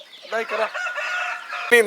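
Fighting-breed chickens at a breeding farm, with hens tethered apart for egg-laying, give a close, short burst of clucking and throaty calls.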